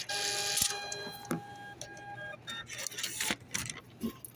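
A Walmart self-checkout kiosk prints a receipt at a store register, giving a steady buzzing mechanical whir with several sustained tones, followed by rustling handling noises and faint store clatter.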